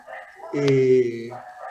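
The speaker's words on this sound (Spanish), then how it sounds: "ladran los perros y escucho" A dog gives a single short bark at close range, standing out briefly from quiet room sound.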